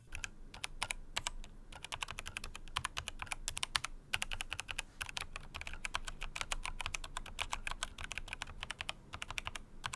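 Fingers type steadily on a mechanical keyboard fitted with washers on the switch stems, giving rapid, crisp key clacks in uneven bursts with brief pauses, quiet and close.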